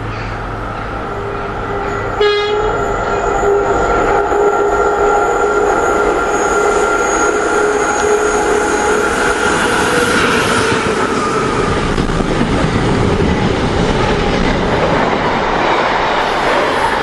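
A train hauled by four class 86 electric locomotives passes at Long Buckby, rising from quiet to a loud, sustained roar of rolling wagons with a brief horn-like tone, wheel squeal and rhythmic clatter that continues for many seconds.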